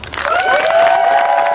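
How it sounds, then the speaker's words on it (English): A crowd applauds at a ranger ceremony to honour a new lieutenant, a short loud burst of clapping and cheering with whoops close by. "So, round of applause for the new lieutenant."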